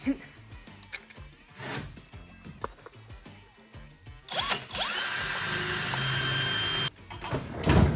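A Hercules cordless drill whirs in a steady burst for a couple of seconds, preceded by scattered clanks and handling noises, with voices talking nearby.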